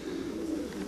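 Soft, low cooing of pigeons, including white flying pigeons walking on grass, runs steadily through the second, with faint rustling outdoor background and no talking.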